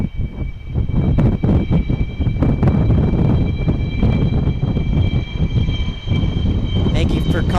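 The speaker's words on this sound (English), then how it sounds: "Here's the Cessna citation" A Cessna Citation business jet rumbles steadily at Dallas Love Field, a broad engine roar running under nearly continuous talk from a nearby voice.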